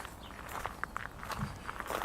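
Footsteps of someone walking uphill outdoors on a foggy path near a house, a steady run of soft, close crunching steps at an even walking pace, with no talking.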